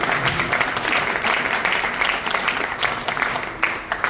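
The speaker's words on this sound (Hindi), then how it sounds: "जाओ जाओ, जोरदार ताली।" A room of people gives loud, dense applause for Verma ji at a business success gathering, continuous clapping with slight surges and no clear gaps.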